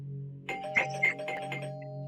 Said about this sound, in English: who's ringing on the doorbell like that?